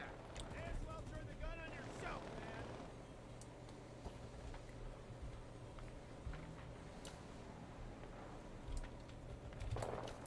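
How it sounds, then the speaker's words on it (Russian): A motorboat engine in Enlisted gives a faint, steady low drone throughout, mixed with wind-like rushing noise and occasional distant bangs, while a voice speaks briefly near the start. "Так, катер."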